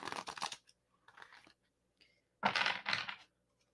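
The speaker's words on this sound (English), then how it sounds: "One more shuffle." A deck of cards is shuffled close up during a card-pulling reading, giving two quick papery riffling bursts, then a brief tap and a louder, fuller riffle; no voices.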